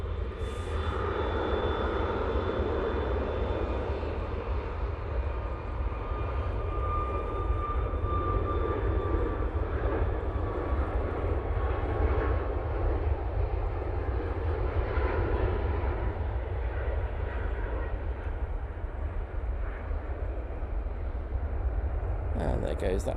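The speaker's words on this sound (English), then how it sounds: "there goes that TUI 737 MAX 8" A TUI Boeing 737 MAX 8 at Manchester Airport makes a continuous jet roar with a thin high whine gliding downward. The sound stays steady and fairly distant, and a voice may speak faintly beneath it.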